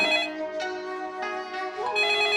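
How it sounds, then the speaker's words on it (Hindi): A melodic phone ringtone plays loudly and continuously, its tune stepping between tones with no voices. "फिर कबीर का फोन आने लगा।"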